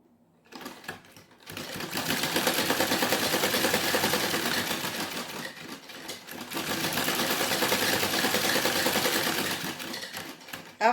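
Sewing machine stitching a doubled-over fold of blouse lining, a fast, even mechanical rattle running in two long bursts with a short pause between them, close and steady.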